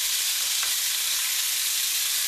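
Beef sears in a hot pan for a stew, giving a loud, steady, close sizzle and hiss without a break.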